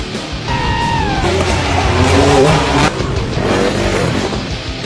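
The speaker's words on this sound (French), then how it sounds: "Je vais aller rouler un petit peu sur la moto" Motocross motorcycle on a dirt track, engine revving and rising in pitch through gear changes, loud and fairly close, then easing off and climbing again.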